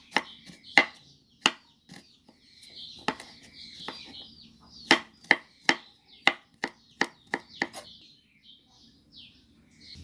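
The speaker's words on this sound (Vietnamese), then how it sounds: "các bạn băm tỏi cho thiệt nhuyễn cho mình ha." Garlic being minced with a knife on a cutting board for a vegetarian dried-beef-style dish, a run of sharp, irregular chopping taps, close and distinct, with small bird chirps in the background.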